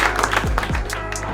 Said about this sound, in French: On peut applaudir donc cette conférence de presse ici.